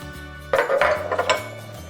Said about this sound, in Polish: Najpierw dokładnie myję każdy słoik i zakrętkę.